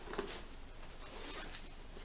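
A zipper on the middle zip pocket of a bag is pulled, a faint, close ratcheting rasp running evenly for about two seconds without speech.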